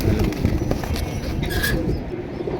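Pigeons coo softly at close range in a low, murmuring run, set against a rough, noisy background with no speech.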